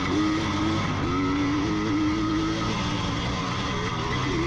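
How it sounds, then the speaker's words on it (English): A four-stroke motocross bike engine revs hard at Renlow Park, its tone rising and falling in steady, loud pulls with wavering pitch, heard close and alone without talk. "I can hear Jim in my left ear just making that 4-stroke sing."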